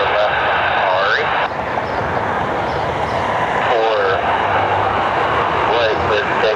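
A Southwest Boeing 737 airliner roars on takeoff at Cleveland Hopkins airport, a loud sustained engine rumble and whine, with air traffic radio voices talking over it.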